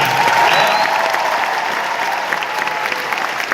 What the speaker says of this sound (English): You guys to give a round of applause to MegaCon for bringing guys like this in.